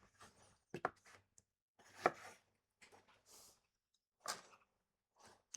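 Knife chopping shallots on a board, a few quiet, irregular cuts and taps separated by silence, close and faint, no voices.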